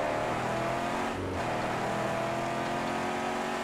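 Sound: car accelerating in Mad Max video game

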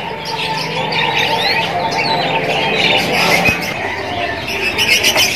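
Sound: young F3 canary bird chirping

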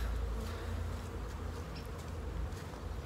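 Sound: honey bees buzzing around a beehive

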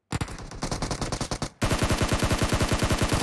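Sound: gunfire from PUBG Mobile video game

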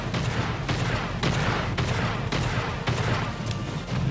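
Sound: explosion in the video game Star Citizen

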